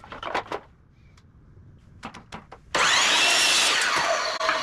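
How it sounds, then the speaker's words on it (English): Power saw cutting angles in wood for pet gate parts, starting partway through as a loud, sustained whine that runs steadily to the end after a few quieter knocks and taps of handling. "So we're going to go ahead and get these angles cut"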